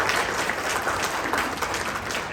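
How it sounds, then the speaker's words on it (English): A workshop audience gives a round of applause for a team, a brief, dense burst of many hands clapping, loud and steady throughout with no talk over it. "let's give them a round of applause for their team"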